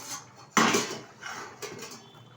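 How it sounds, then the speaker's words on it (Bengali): A lid lifted off a cooking pot of chicken and potato curry, a sharp metallic clank followed by a rattling scrape and a second lighter clink, close and clear with no talk. "ঢাকনাটা তুলে দিচ্ছি।"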